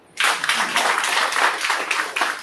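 An audience breaks into sustained clapping that starts abruptly after a brief quiet moment, a dense, steady wash of many hands applauding throughout.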